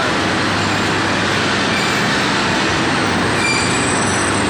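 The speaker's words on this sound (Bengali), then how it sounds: "এই ট্রেনটি এখন থেমে পড়েছে" A train rumbles loudly and close by as it comes to a stop, with a steady roar of wheels on rails and a faint high squeal of brakes toward the end.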